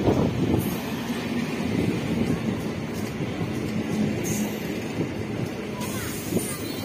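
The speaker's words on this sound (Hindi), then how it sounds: "आ गई हमारी ट्रेन, जो है पूरी 20 मिनट लेट।" A MEMU commuter train pulls into a station on the Narela to Old Delhi line, giving a steady, loud rumble of rolling wagons with wind noise over the microphone and no talk.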